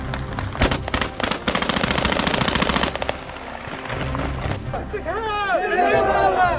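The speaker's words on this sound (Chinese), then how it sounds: "机场附近发生了大量密集的枪声" Dense automatic gunfire near Kabul airport at night after the final US troop withdrawal from Afghanistan, rapid bursts crackling loudly in the first three seconds, followed by crowd noise and shouting voices.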